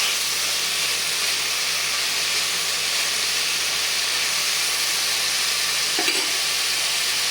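A spice mixture fries in a pan with a constant hissing sizzle, broken once by a light clink of a spoon stirring it.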